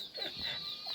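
Rooster clucking at a rural home during the Dashain festival, a few short close clucks over a steady high background hum.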